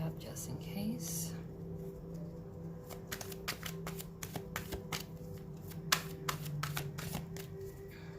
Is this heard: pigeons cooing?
no